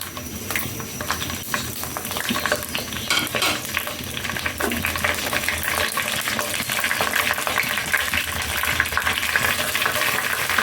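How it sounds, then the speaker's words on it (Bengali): Whole cardamom, cinnamon, cloves, cumin and bay leaf fry in hot oil for khichuri: a continuous close sizzle with repeated scraping and stirring of a utensil in the pan, and no talking. "এখন এখানে নিয়ে নিয়েছি এলাচি দারচিনি লবঙ্গ আস্ত জিরা আর তেজপাতা এটা এখন দিয়ে দিব তেলের মধ্যে"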